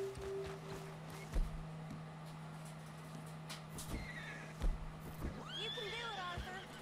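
Horse in Red Dead Redemption 2 whinnying near the end, a rising-and-falling neigh after a few hoof clops, over a quiet steady background hum, fairly faint overall.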